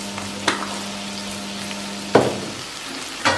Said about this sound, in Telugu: దీన్ని కొంచెం బాగా ఫ్రై చేసుకుంటాము.